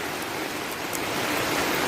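A downpour of rain on an umbrella makes a constant, loud rushing hiss close at hand, unbroken throughout.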